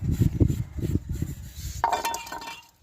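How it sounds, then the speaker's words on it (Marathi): Dishes, pots and pans being washed in hot midday sun, with clustered clinks and knocks, then a brighter metallic clatter near the end, close by under a low voice. "आता भांडी धुवतीय असल्या उन्हात."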